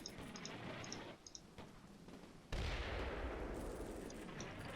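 Mortar blasts and sustained enfilade gunfire in a military video game, with sporadic distant shots, then a heavy low explosion midway followed by a continuing roar of fire, without any talk.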